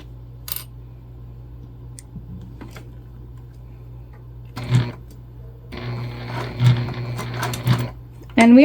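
A sewing machine back stitches a Zora shoulder bag, short bursts of rapid close mechanical stitching separated by pauses and low hum.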